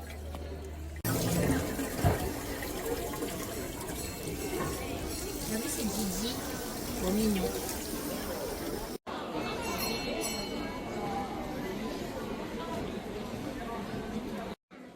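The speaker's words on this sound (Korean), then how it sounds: "수도꼭지가 귀여운 고양이 모양이에요. 이걸 보면 손을 씻어야겠어요" Water runs from a cat-shaped tap by a tray-return area at the Ghibli Museum in Mitaka, Tokyo, a steady splashing stream under nearby chatter and background voices for most of the stretch.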